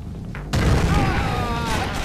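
A grenade goes off in the Splinter Cell video game, a sudden loud boom that cuts in abruptly and rolls on as a sustained, rumbling blast with debris-like ringing tails.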